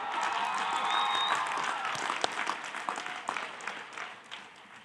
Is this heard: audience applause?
yes